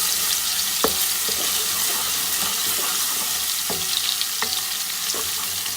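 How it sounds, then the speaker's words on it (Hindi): Garlic paste and onions sizzle and fry steadily in a hot pan, a dense hiss with occasional light clinks and scrapes of stirring, close and continuous. "अब हम इसके अंदर ये लहसुन का जो पेस्ट है वो ऐड कर देंगे, 1 आध मिनट के लिए भूनेंगे।"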